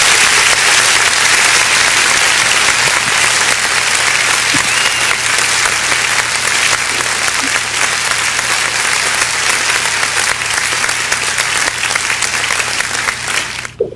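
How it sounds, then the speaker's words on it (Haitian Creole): Loud, continuous applause from a church congregation, many hands clapping together in a thick unbroken wash that tapers off only at the very end. "On applaudit là, on applaudit."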